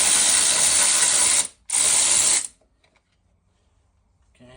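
Electric impact wrench spinning a 19mm bolt off a DeLorean front brake caliper during a suspension overhaul: two loud, close whirring bursts with a short break between, then near silence.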